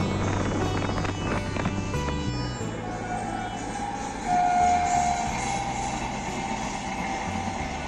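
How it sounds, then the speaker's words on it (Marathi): A train passes by near a roadside in Chiplun, Konkan, a steady loud rumble of wagons rolling along the rails with a brief tonal whistle midway, no talking. "काय सीन भेटत आहे टायमात ट्रेन आली"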